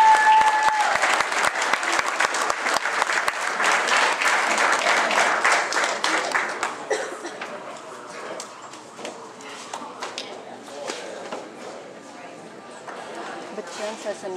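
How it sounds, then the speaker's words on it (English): Crowd applause for two amateur boxers after a points decision at a boxing match, loud dense clapping for about seven seconds that then thins into lighter scattered claps with background crowd noise. "Let's have another round of applause for these two fighters"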